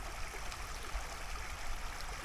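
A river runs beside a park: a steady, faint rush of flowing water fills the short clip evenly with no voices.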